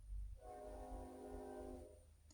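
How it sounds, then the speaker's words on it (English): A train horn sounds one sustained, multi-tone blast for about a second and a half over a low rumble of the passing train, moderately distant. "If you hear that, guys, that's my train."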